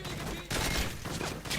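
Heavy machine gun in the video game Call of Duty MW3, a short burst of rapid, dense gunfire heard at modest level throughout.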